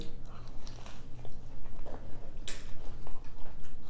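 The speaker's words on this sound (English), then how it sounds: "Let's take a few bites of the crunch wrap." Close-up biting and chewing of a Taco Bell black bean crunch wrap, with soft crunches and wet mastication sounds repeating steadily and quietly at an eating table.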